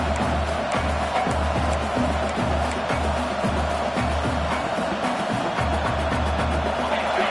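A stadium crowd in the College Football 26 video game, roaring steadily on a fourth-down play, a broad continuous wash of noise with regular low pulsing thumps beneath it.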